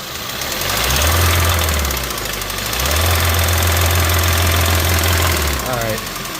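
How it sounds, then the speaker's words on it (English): A Kia car engine revs up and holds with a steady, loud mechanical knocking, rising in two long pushes separated by a brief dip, heard up close while a person talks. "Okay, rev it up a little bit,"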